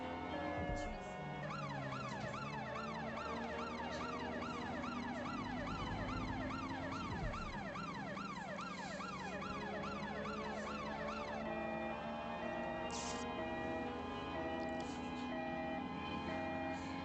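Police sirens wail on England's streets in the video game Watch Dogs Legion: rapid rising and falling siren sweeps stay loud for about ten seconds, then a steadier siren tone and traffic rumble carry on beneath.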